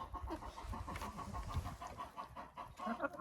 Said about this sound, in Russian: Это курица маран.